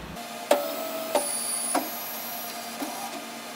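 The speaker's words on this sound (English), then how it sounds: "It'll take just a moment to get the machine initialized, and that will move the table down to the correct position" An Epilog Fusion laser engraver initializes, moving its table and lens carriage with a steady motor whine broken by a few sharp mechanical clicks and clunks at close range, no one speaking.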